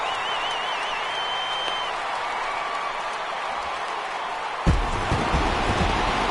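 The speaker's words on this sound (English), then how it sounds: "the home crowd is loving it" Home crowd noise from the MLB The Show 18 baseball video game: a steady wash of crowd murmur and applause, with a sudden louder burst of clapping and cheering near the end.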